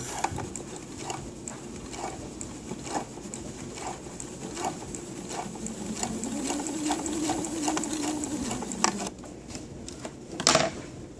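A sewing machine stitches a dress hem, a quiet, rapid, even mechanical pulse that runs steadily, then ends with a brief louder clunk near the end.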